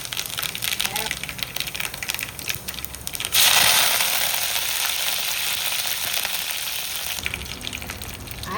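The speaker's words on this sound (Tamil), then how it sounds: "கடலை எண்ணெய் ஊற்றி துவையில் தாளிச்சிக்கிறேன்." Mustard seeds and urad dal hit hot groundnut oil for tempering a sundakkai thuvaiyal. A sudden loud sizzle and crackle bursts in midway and keeps frying steadily, with quieter kitchen sounds before it.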